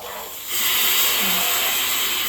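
Pressure cooker whistle venting steam during home cooking of a vegetable and butter dish, a steady loud hiss that swells after half a second and keeps on, close by.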